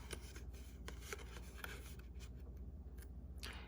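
Scissors snipping tabs off a paper box, a series of faint, quick crisp cuts and paper rustles close by, ending with a longer sliding sweep.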